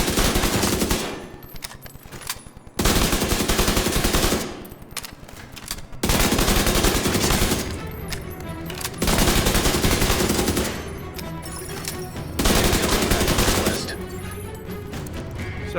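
Slingshot SMG firing in The Division 2, loud sustained bursts of rapid automatic fire repeated several times with short pauses between them, close and dominant throughout.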